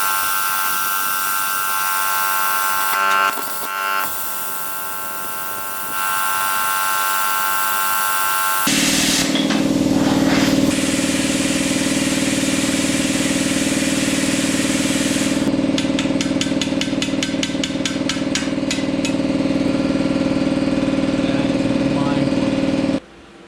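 A JEGS Cut 60 plasma cutter slices through 3/4 inch steel, a loud steady hissing buzz with a harsh electrical hum that shifts in tone partway through, continuous and close before cutting off sharply at the end.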